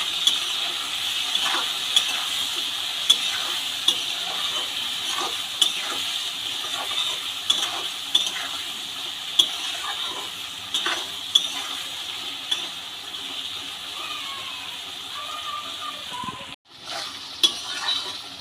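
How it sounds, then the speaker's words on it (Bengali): Vegetables seasoned with turmeric and salt fry in a pan with fish oil, a steady close sizzle punctuated by regular scraping strokes of a spoon as they are stirred. "সবজিগুলোকে ভালো করে নেড়ে চেড়ে নেবো"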